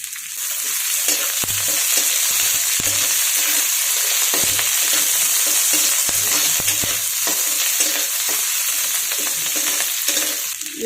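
Onion and bell pepper sizzle steadily in a hot pan, with a constant bright frying hiss broken by repeated scraping stirs of a spatula, close and loud, no talking.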